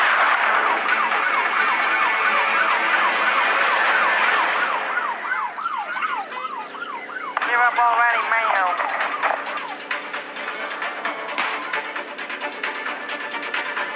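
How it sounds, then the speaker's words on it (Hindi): Police car sirens wail in the Dude Theft Wars video game, loud and overlapping at first with rising and falling sweeps, then fading into scattered yelps and engine noise. "भाई पुलिस की गाड़ियाँ आ रही पीछे।"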